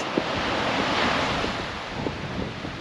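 Strong wind gusting across exposed Misery Beach in Albany with surf rolling in, a steady loud roar of wind buffeting the microphone over breaking waves.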